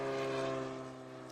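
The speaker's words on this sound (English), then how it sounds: "All the great noise from all of these airplanes." Propeller airplanes at an airport during an EAA aviation event, a loud droning engine hum with steady low tones that slowly fades slightly, with no voices.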